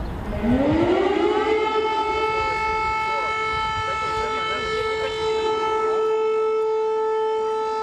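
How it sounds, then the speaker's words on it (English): An air raid siren in Kyiv, Ukraine, winds up from low to a steady, wailing tone and holds there, loud and continuous, with faint background noise beneath. "But air raid sirens continue to interrupt our daily lives."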